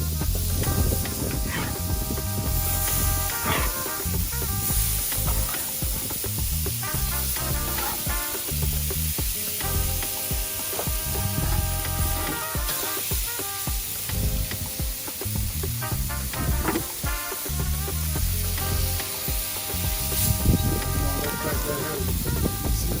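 Ribeye steak sizzles in oil on a Blackstone griddle, a loud continuous crackling hiss that runs unbroken under background music.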